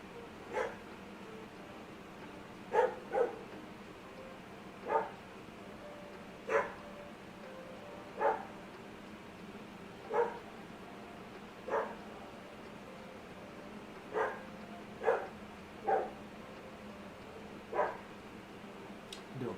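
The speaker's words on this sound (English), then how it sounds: "I do apologize for my dogs barking." Dogs bark outside beyond an open window, a steady series of single, moderately distant barks repeating roughly every second or so beneath a low indoor hum.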